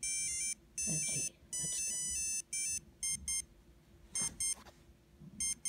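Electronic beeps and short chiptune bursts from a 1990 vintage Mario Bros 3 LCD watch game, a series of bright, tinny bleeps in quick clusters with brief gaps, close and clear, with faint handling noise beneath.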